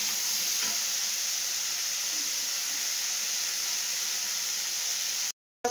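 Potatoes fry in hot oil in a home kitchen, giving a steady, loud, even sizzle and hiss that runs unbroken until it cuts off abruptly near the end.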